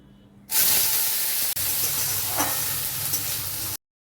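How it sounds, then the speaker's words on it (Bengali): Chopped onion dropped into hot mustard oil with cumin in a pan, bursting into a loud, close, continuous hissing sizzle that cuts off abruptly. "এবারে পেঁয়াজ কুচিটা দিয়ে দেব।"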